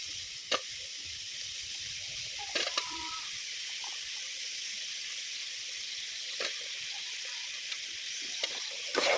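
Capsicum, tomato and onion fry in hot oil for a biryani, a soft, steady sizzle throughout with occasional light clicks of a spoon stirring the pan.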